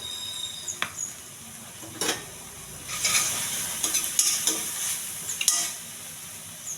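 Curry leaves, cumin seeds and ginger garlic paste fry in a pan with a soft steady sizzle, broken by sharp scraping and stirring strokes of a spoon, close by and without talk.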